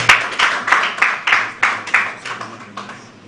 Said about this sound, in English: Ladies and gentlemen, let's clap for our guest.